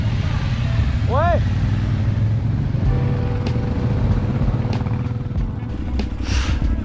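Yamaha Ténéré 700 motorcycle engine running steadily at low revs, a continuous close rumble under people talking, with a brief whistle-like tone and faint clicks over it.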